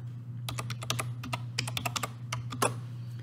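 Rapid keystrokes on a computer keyboard as a password is typed, a quick irregular run of close, crisp clicks over a low steady hum.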